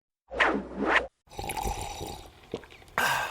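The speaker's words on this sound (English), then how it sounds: "That's not just the sound of that first sip of Morning Joe." A short slurping sip of hot morning coffee, followed by a quiet swallow and soft clinks, then a brief whoosh at the end.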